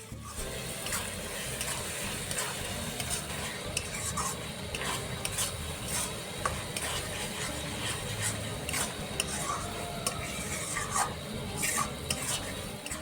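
Masala being stirred and sautéed in oil in a chicken curry pot, cooked outdoors on a rooftop: continuous scraping and stirring with a steady low sizzle, close and fairly loud, with occasional utensil clinks and no talk.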